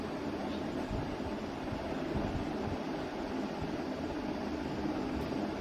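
A sewing machine running steadily along the side seam of a kurta, a continuous even mechanical whir with a faint rapid pulsing, close and unbroken throughout.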